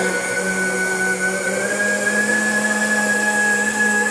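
A blender whirs steadily at high speed blending carrots, a constant loud motor drone with a sustained whine and no pauses.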